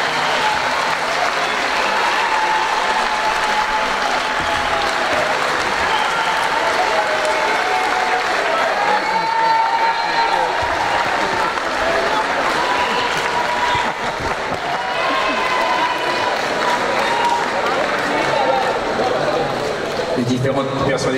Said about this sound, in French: comment continuer à applaudir, continuer, voilà.